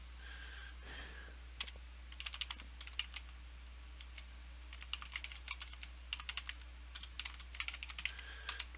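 Rapid bursts of keystrokes on a computer keyboard, close and quiet over a steady low hum, coming in irregular clusters with short pauses between them.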